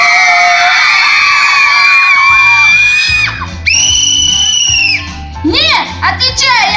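Children performing on stage yell and scream loudly together in high, sustained shrieks, with short whoops and shouts breaking through near the end.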